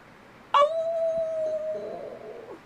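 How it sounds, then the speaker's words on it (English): A beagle and toy fox terrier mix dog lets out a single loud, close bark that slides into a sustained howl, then trails off into a wavering, softer whine. "They have that unique bark"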